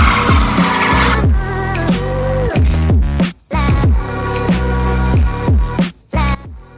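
A Buick Century, a sixth-generation model from 1997 to 2005 bought for about $500, does a burnout with loud revving and tires squealing in several bursts, separated by brief pauses.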